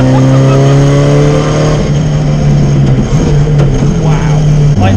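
A 500 BHP Ford Escort Cosworth Group A rally car's engine drones loud and close, holding a steady note before shifting into rougher, fluctuating revs, with a voice faintly underneath.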